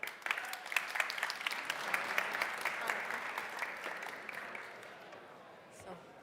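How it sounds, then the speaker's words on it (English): An audience at a tech conference stage applauds a startup pitch, a brisk round of many hands clapping that stays steady and then thins out and fades toward the end. "So give a round of applause."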